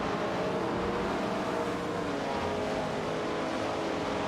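Race cars in a racing video game, including a 1967 Plymouth GTX and a Ferrari 365 GTB Daytona, give a steady, loud, continuous engine roar with no breaks and no talking.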